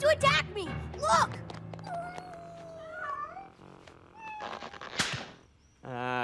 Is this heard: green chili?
no